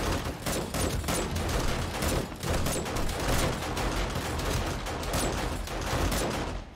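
Rapid, continuous automatic gunfire from an M rifle in the 7 Days to Die video game, a dense, loud barrage of shots with no pauses during a blood moon bunker defense.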